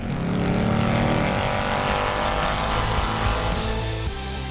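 A Ford Mustang Dark Horse V8 drives with a loud, steady engine roar that holds its pitch across the whole stretch, close and with no voices over it.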